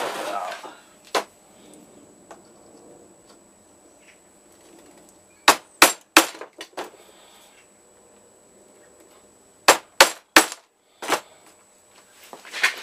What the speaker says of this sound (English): Chisel that little bit out.